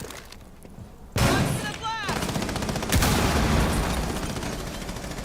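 Automatic gunfire sprayed in a multiplayer shooter match, a sustained rapid burst of loud shots with sharp transients, continuing steadily after a brief quieter lead-in.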